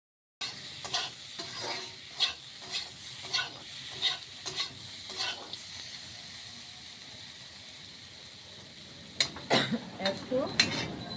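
Ground dried red chilli and cumin fry in a pan for a paneer curry, with repeated scraping stir strokes over a low sizzle, a pause, then a brief burst of utensil clatter near the end.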